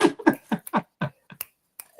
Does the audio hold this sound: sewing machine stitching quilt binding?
no